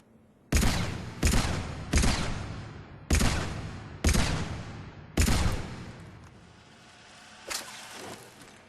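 Carnifex pistol in Mass Effect 3 fires six loud, sharp shots at mid to long range, spaced about a second apart, each with a ringing decay, followed after a pause by one fainter report.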